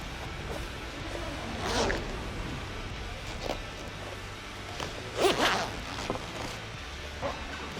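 Zipper being run along a padded kayak travel cover, several rasping pulls at intervals, fairly close, amid quiet handling noise.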